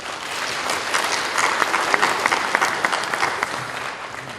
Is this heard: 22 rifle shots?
no